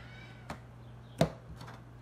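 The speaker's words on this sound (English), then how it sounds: "Meowing." A single short cat meow rises out of steady background hum, with a few faint clicks around it; no one speaks.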